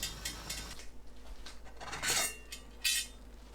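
Steamer lid set down over enoki mushrooms in a steamer of boiling water, with faint scattered clinks and two brighter metallic clatters of dishes, close and quiet.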